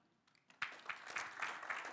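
Audience applause at a conference, starting abruptly after a quiet moment and continuing as a steady, moderately loud clatter of many hands clapping.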